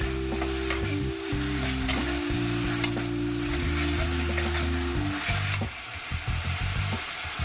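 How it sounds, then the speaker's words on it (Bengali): Green chillies are added to hot oil in a pan while cooking Bengali dry fish chorchori, setting off a loud, continuous sizzle with stirring and scraping throughout, plus a low, wavering hum under it. "এবার দিয়ে দিচ্ছি কটা কাঁচা লঙ্কা।"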